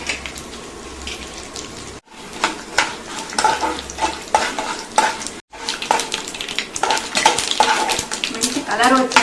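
Five or six dried red chillies fry and crackle in hot oil while a spoon stirs and scrapes the pan, a steady close sizzle with two brief gaps.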